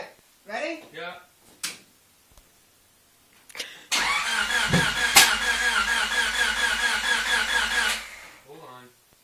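A car engine cranks and catches in snowy weather, starting with a loud roar that holds steady for about four seconds before cutting off. Voices talk briefly before and after it.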